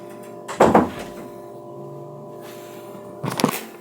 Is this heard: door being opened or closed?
yes